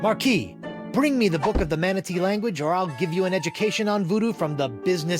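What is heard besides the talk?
None of the usual background noises is heard.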